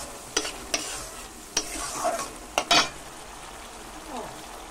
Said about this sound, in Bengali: মশলাটাকে আমি ভালো করে নেড়ে চেড়ে ভেজে নিচ্ছি